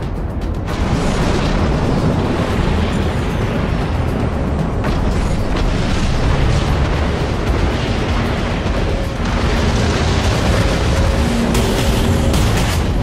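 Starship combat in the Dreadnought video game, with missile launches and explosions forming a dense, continuous roar of booming blasts and rumbling low noise that stays loud throughout, with no speech.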